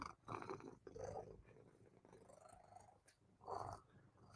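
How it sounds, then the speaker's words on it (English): A cat purrs close up, a soft rumbling purr with rhythmic breathy swells, quiet and intimate. "can you hear her purr?"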